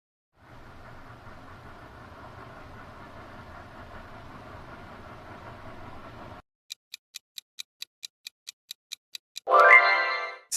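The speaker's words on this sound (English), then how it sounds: "Steam train." Steam train rumbling along in a steady, even drone for about six seconds, then silence broken by a row of regular ticks and a brief loud burst.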